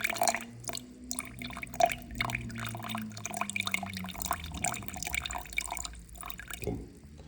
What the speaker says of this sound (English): It's best to add the water first, because then you'll mix it up into more of a kind of a liquid which mixes with the flour better.